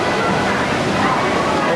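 A log flume ride boat splashes into the water at an amusement park, a loud, dense, continuous rush of spray and churning water close by, with a voice and crowd murmur mixed in.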